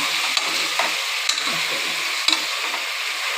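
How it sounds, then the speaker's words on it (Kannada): Vegetables for a bottle gourd and black-eyed pea curry being stirred in a little oil in a pan, a close, steady hiss of frying with a few light clicks of the spoon, no voices. "ಈ ಥರ ಸ್ವಲ್ಪ ತಿರುಗಿಸ್ಕೋಬೇಕು ಚೂರು ಎಣ್ಣೆಯಲ್ಲಿ"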